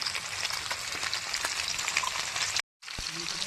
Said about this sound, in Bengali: আলা খোলা মাছ দিয়ে দিয়েছি, ভালো করে আমি ভেজে নিই।